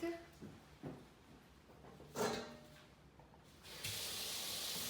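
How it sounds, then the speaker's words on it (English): Tap water runs over raw lamb meat being washed in a kitchen sink, a soft broad hiss with splashy bursts that swells into a steady rush near the end. Faint and close, with no voices. "So we wash our meat"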